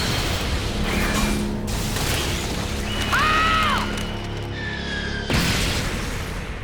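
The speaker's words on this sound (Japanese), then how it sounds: "バディカード管理場の近くで爆発が。" An explosion sound effect in the Future Card Buddyfight Hundred anime, a dull booming blast with crashing, shattering debris and a swooping whistle-like tone, steady and loud with no talking.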